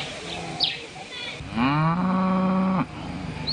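Cattle in a rural community low with one long, loud, close moo rising then holding, set against outdoor ambience with faint bird chirps.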